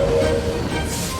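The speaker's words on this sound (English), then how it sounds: "The train is coming." An animated cartoon train pulls in during a children's safety story. A steady, loud rumble fills the whole moment, with a faint sustained whistle-like tone early on.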